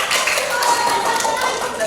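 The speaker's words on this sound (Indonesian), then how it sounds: "tepuk tangan untuk kelompok Cinta" A classroom group of children claps together in a brief burst of dense, lively applause, close and steady throughout.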